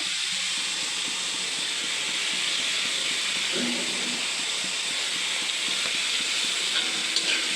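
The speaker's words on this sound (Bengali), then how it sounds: "আগে চিকেনটা ভালো করে ভেজে নিব" Chicken frying in hot oil with green chillies and garlic paste, a loud, continuous hiss and sizzle close by, with faint clinks and scraping from a utensil and a brief voice near the start.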